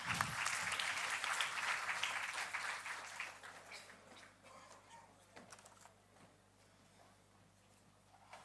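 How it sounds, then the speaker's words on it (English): Audience applause at a policy conclave on AI and automation, a crowd clapping loudly at first, then thinning out and fading to scattered claps. "Let's welcome them with a round of applause."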